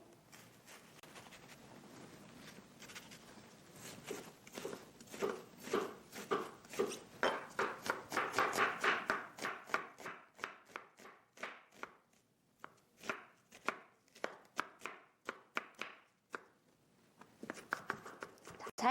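Knife mincing onion finely on a cutting board while preparing food for a homemade gochujang meal: a long run of quick, crisp, evenly spaced chops, close and clear, with no talking.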